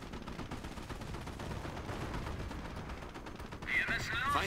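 Dense, continuous machine-gun fire and battle noise from the Company of Heroes war strategy game, loud and steady throughout, growing brighter and sharper near the end.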